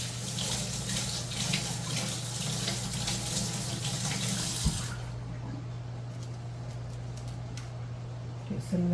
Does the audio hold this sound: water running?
yes